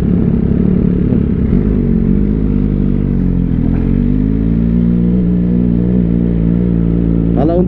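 A three-cylinder motorcycle engine, a big-bike ride-review machine, runs with a loud, steady, throbbing rumble close by, with a brief rev flare near the end.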